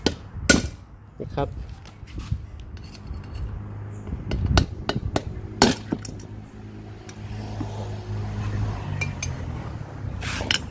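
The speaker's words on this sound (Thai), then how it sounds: "อย่างนี้ครับก็ตอกๆเข้าไปเลยนะครับ" Sharp metallic hammer blows strike at irregular intervals, driving a pin out of a valve rocker arm on a GX35 four-stroke engine, over workshop clatter, with someone briefly speaking between the strikes.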